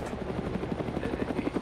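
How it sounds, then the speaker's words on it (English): A helicopter in the video game Arma 3 keeps up a steady, rhythmic rotor thump throughout, fairly loud and continuous, with no voices over it. "Don't worry about the helicopter."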